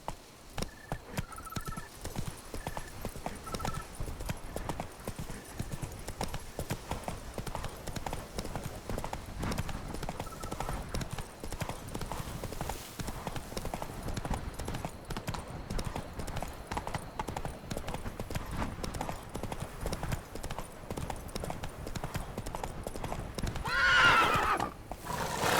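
Hooves of the horse Roach gallop in The Witcher 3: Wild Hunt, a steady rapid clip-clop rhythm continuing throughout with a couple of short whinnies early on and a louder snort near the end.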